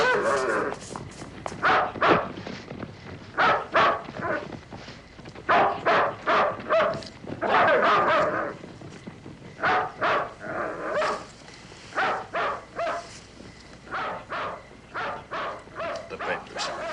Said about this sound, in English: Send the dogs!